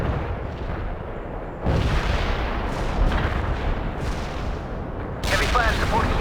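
Artillery barrage strike in the video game World in Conflict, heavy booming blasts and rumbling impacts in dense bursts that swell louder partway through, with a radio voice talking among the explosions.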